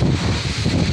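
Steady, roaring wind buffets the microphone at an outdoor market, a continuous low rumble and hiss with no breaks and no voices.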